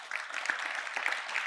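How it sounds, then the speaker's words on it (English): Audience applause at a University of Michigan Health Rogel Cancer Center gala, a dense steady wash of clapping that begins almost at once and holds at an even level through the short stretch. "Round of applause"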